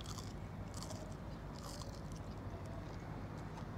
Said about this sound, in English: And this is a lot more crunchy.